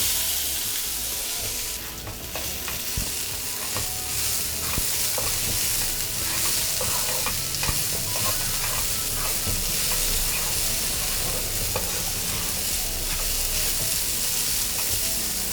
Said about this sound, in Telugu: 2 టేబుల్ స్పూన్ల నెయ్యి వేసుకుందాం. కొబ్బరి తురుము వేసుకొని వేపుకుందాం.